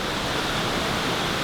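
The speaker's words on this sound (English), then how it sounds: "Never in my life have I seen a waterfall like this before." A waterfall on Maui pours with a steady, dense rushing roar, an even broadband wash of water noise with no breaks.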